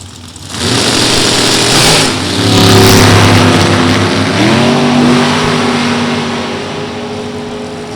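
A drag racing car's engine rumbles loudly at the start line as it stages, the tone rising and shifting through revs before settling and fading slightly, close and continuous with no talk.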